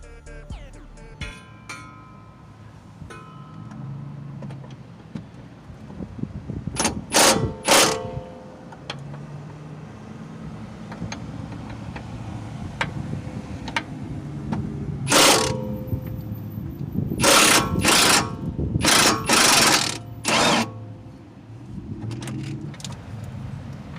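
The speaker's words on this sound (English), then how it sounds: "I'm using my impact with the 8-inch extension so I can come in at an angle and reach that bolt." An impact wrench on an 8-inch extension loosening the rear track bar bolt on a Jeep, delivering several loud bursts of rapid hammering between quieter stretches of clicking and shop handling noise.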